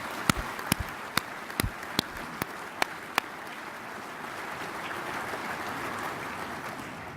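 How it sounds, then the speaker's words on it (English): At a banquet, an audience gives the rural water staff a round of applause: a few sharp individual claps at first, then a softer, dense patter of clapping from a crowd heard at some distance. "Let's give them a round of applause."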